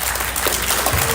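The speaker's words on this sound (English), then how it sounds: "Can we get a round of applause for the juniors?" An audience of high school students and families claps for the juniors at a school orientation, a brief, dense burst of applause filling the room.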